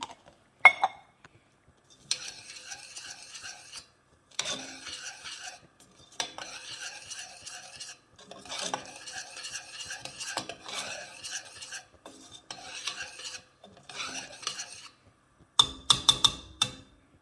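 Utensil stirring Nam Prik meatball mix as chili powder goes in: repeated scraping and clinking strokes in bursts with short pauses, close and fairly clear, with a few sharper clinks near the end and no talking.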